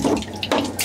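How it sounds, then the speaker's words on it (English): A hose sprayer on a newly installed Dometic RV toilet sprays water, a loud close hiss and splash in bursts that rise and fall over under a second. "Hose sprayer works good."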